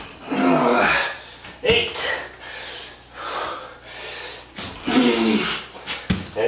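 Hard, heavy breathing from a person doing a one-legged burpee workout, with sharp gasps and snorting exhales in a steady, effortful rhythm, close and loud with no talking.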